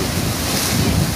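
Sea waves washing onto a sandy beach, a loud continuous rush of surf heavily mixed with wind buffeting the microphone, with no voices.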